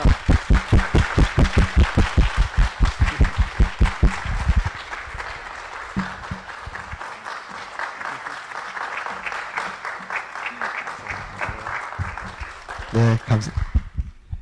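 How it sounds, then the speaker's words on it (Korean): A church congregation claps loudly and steadily in welcome as the pastor takes the pulpit, the dense applause swelling and then thinning as talk comes in over it. "늘사랑에 보낼 수 있는 가장 깊은 사랑과 감사의 박수로 환영하겠습니다"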